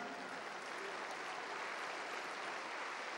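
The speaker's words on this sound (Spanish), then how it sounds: "Dale un aplauso al Señor." A church congregation claps in a continuous, dense wash of applause, steady and evenly loud throughout, with no voices rising above it.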